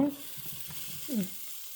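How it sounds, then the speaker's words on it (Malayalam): Capsicum fries in a pan with a faint, soft sizzle and a brief stirring scrape near the end, heard up close with no one talking. "ഇനി അപ്പം നമുക്ക് ക്യാപ്സിക്കം ഇടാം കുക്കു."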